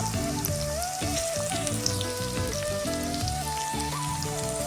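Okra sautéing in a pan for a curd gravy gives a steady, close sizzle that runs unbroken throughout, with music playing over it.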